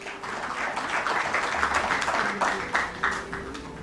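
Audience applause at a stock exchange IPO listing ceremony, a sustained crowd of many hands clapping at moderate distance, dense and steady for the whole stretch.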